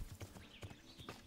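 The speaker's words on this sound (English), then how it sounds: "I've been sprinting with the horse," A horse at full gallop in the video game Kingdom Come: Deliverance, its hooves drumming in a quick, irregular clip-clop rhythm, faint and close, with no talking.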